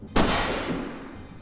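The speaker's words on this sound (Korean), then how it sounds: "그때 위에서 들리는 여러 발의 총소리." Several gunshots fired from above in a film scene, a sharp loud blast followed by a second close report, then a long echoing decay that fades slowly.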